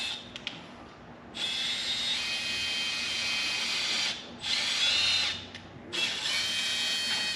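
A power drill bores through thick aluminum on the side of a trailer, whining steadily in three long bursts separated by brief pauses, close and loud.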